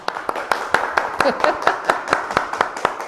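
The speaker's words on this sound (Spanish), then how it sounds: "Y ahora nos toca el aplauso." A small audience claps at the end of a lecture on Buddhism and freedom, with sharp, fairly regular handclaps close by and scattered voices in between.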